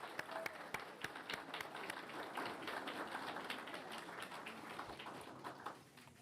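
A round of audience applause at a school board meeting, a steady patter of many hands heard at a distance that gradually fades out toward the end.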